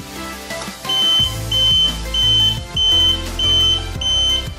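An electronic buzzer on a homemade laser anti-theft sensor beeps repeatedly in a steady pulsing rhythm, loud and close, about six even tones with short pauses.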